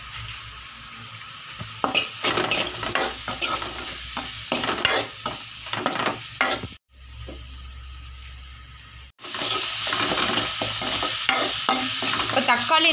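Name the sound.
stirring and mashing tomatoes in a frying pan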